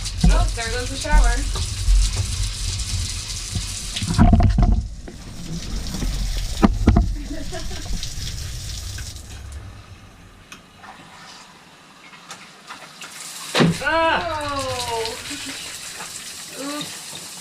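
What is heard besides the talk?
shower running during rough-in plumbing test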